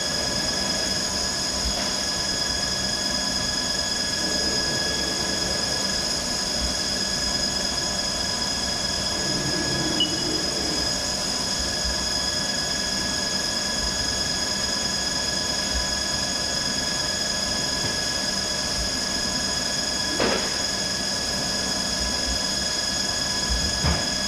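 A CNC lathe makes an automatic turning pass on a 3/8 diameter, giving a steady loud mechanical whine with constant tones and a faint squeal, running unbroken throughout.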